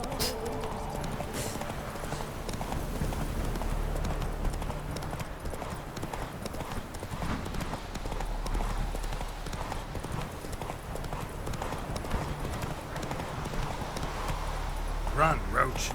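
Roach the horse gallops in The Witcher 3, a steady, rhythmic clip-clop of hooves running continuously under game music and ambience, with a voice speaking over it briefly.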